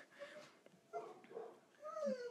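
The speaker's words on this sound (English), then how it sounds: "my dogs are starting to go crazy" Excited dogs in a house whine and yip in short, overlapping bursts, heard at moderate distance and fairly soft, with agitated whimpering between the calls.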